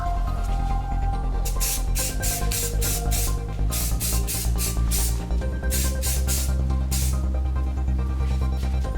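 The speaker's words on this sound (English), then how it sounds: "Now we can apply the primer." Primer sprayed from a can onto an aluminum wheel on a Mercedes SLK230, loud close hissing bursts in rhythmic passes with short gaps between them, over a steady background hum.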